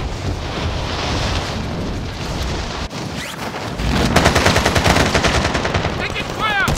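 Incoming enemy gunfire in a combat game, loud sustained machine-gun bursts over wind noise, growing denser and heavier in the second half with rapid rattling fire.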